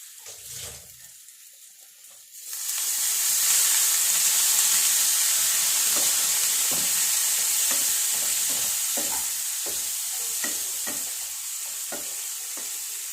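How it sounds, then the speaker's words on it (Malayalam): Tapioca roasting in a pan bursts into a loud, steady sizzle as water is sprinkled on it, with scraping stirs ticking through the hiss. "വേണമെങ്കിൽ ഒരു ശകലം വെള്ളം തളിച്ച് കൊടുക്കാം"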